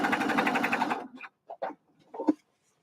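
A sewing machine stitches around the curve of a bucket hat, a fast even whirring run that stops after about a second, followed by a few soft isolated clicks and taps as the fabric is adjusted.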